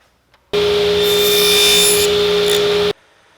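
A saw cuts wood for a DIY corner shelf, giving one continuous loud whining cut of about two and a half seconds that starts and stops abruptly, with quiet before and after.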